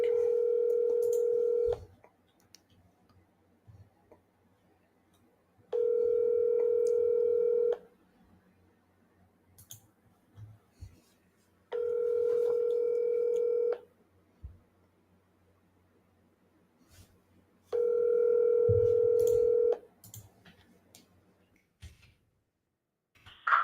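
Telephone call tones for a cold call: four long, loud repeating beeps spaced evenly apart, like a ringback signal, with quiet hum and small clicks between them.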